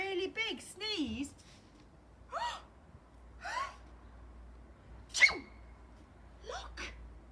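A person imitates a big sneeze with exaggerated, breathy vocal bursts: a few quick gasping sounds, then a sharp, loud sneeze-like burst near the end, in a quiet room.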